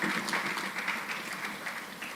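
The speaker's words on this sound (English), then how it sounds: "Let's give him a round of applause." Steady applause from an audience at an agricultural business conference, a dense wash of clapping at even loudness throughout, with some faint voices mixed in.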